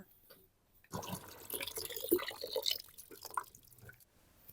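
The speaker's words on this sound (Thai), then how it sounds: "เราก็จะเปิดน้ำเป็นน้ำที่แบบไม่ร้อนแล้วก็ไม่เย็นจนเกินไปค่ะ" Lukewarm water runs from a tap to fill a basin for soaking flower cuttings: a steady, moderate splashing stream starts after a quiet moment and keeps flowing near, then stops.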